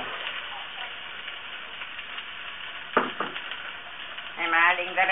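Onion tipped into hot oil for sambar, a soft background sizzle that suddenly bursts into a louder crackling fry near the end, with brief clattering knocks just before.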